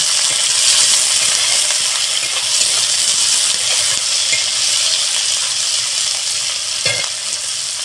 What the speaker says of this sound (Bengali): দেখুন পেঁয়াজটাকে আমি বাদামি করে ভেজে নেব।